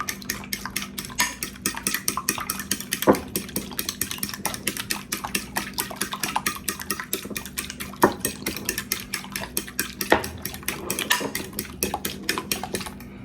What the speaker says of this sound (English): So you want to go ahead and whisk those eggs up.